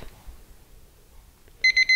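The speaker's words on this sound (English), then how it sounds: "before the counter alarm goes off" A counter alarm on an exercise timer goes off with three loud, evenly spaced electronic beeps that enter after a quiet stretch of faint background noise.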